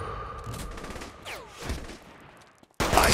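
Scattered gunshots crack faintly in a Saints Row: The Third arena shootout, with a whooshing sweep in the middle before a sudden loud burst of fire at the very end.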